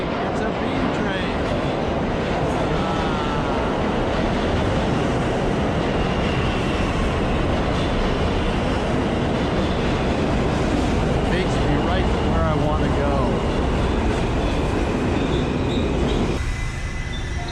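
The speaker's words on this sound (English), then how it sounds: "Yay! It's a B train." A New York subway B train pulls into a station with a loud, dense rumble of wheels and squealing rails that fills the whole stretch, sounding close and enveloping, with voices faintly mixed in.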